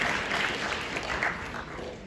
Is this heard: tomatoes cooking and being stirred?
no